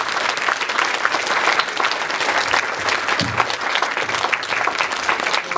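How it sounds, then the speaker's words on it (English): Convention audience applauding at a charity event, dense, sustained clapping from a large crowd filling the room evenly for several seconds. "So give a round of applause to Keys and Senshi."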